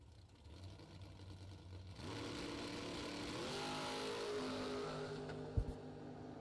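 A bracket racing car launches off the line in a big wheel stand at a drag strip, its engine building to a rising roar in the middle distance with a sharp bang near the end.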